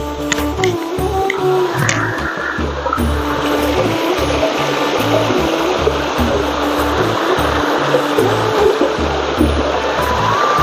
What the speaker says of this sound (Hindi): और ये एक छोटा सा नाला,